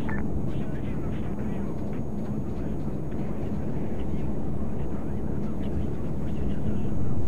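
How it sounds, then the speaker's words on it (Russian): A jet aircraft roars steadily overhead at about a kilometre's distance, a broad rushing drone that grows slightly louder toward the end. "Реактивный самолет 1 километр."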